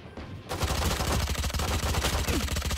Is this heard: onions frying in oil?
no